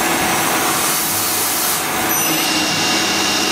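A Citizen A16 CNC lathe fitted with a synchronous rotary guide bushing spins its main spindle at 6,000 RPM, heard from close by as a steady, even whir and broadband hiss without pauses.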